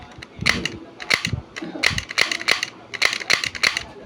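Toy gun with automatic shell ejection firing in blowback mode, giving about nine sharp plastic clacks at a fairly even rhythm, close and loud, with brief low thumps between shots.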